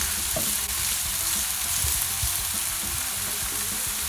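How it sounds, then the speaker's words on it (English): Meat and onions frying in oil in a pan for a vegan Middle Eastern stuffed artichoke dish, a steady close sizzle and crackle running unbroken throughout, with faint stirring and no talk. "Not a lot, just a little bit so we can fry the meat together with the onions."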